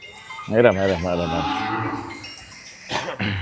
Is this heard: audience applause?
no